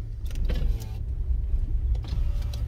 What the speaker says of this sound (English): Let the windows down.